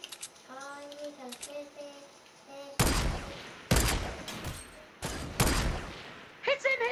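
Weapons fire in a shooting video game, several loud separated bursts of rapid shots in sequence, following an excited voice and mixed with players shouting and talking.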